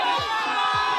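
A live esports arena crowd at a Mobile Legends MPL Philippines match cheers loudly in a brief, dense roar of many voices, with rhythmic low thumps beneath.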